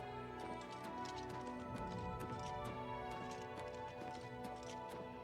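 Horse hooves clip-clop in The Elder Scrolls IV: Oblivion Remastered, a quick, even run of hoofbeats over a steady game background. The sound is faint, with no speech.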